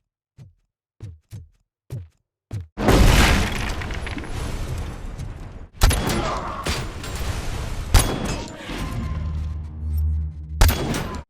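Heavy Cobra cannon blasts in the video game Robocop: Rogue City: a few sharp clicks, then a booming shot followed by several more loud, echoing discharges spaced a few seconds apart.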